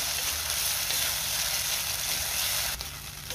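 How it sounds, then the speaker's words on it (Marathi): Cashew masala paste sizzling loudly in a pan for dhaba-style bhindi masala as a spoon stirs it, a dense, steady close frying hiss with a brief scrape near the end, no talking. "एकसारखं असं चमच्याने हलवून घ्यायचं आहे, नाहीतर खाली लागू शकतं"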